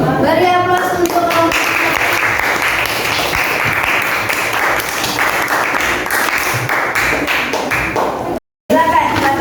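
A classroom audience applauds during a teaching-practice lesson, a dense, steady patter of clapping hands that runs almost the whole time, broken by a brief silent gap near the end, with a voice speaking at the start.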